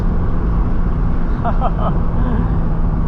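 Corvette C5 Z06 engine accelerating at half throttle, a steady low rumble heard from inside the car, with a brief voice cutting in near the middle.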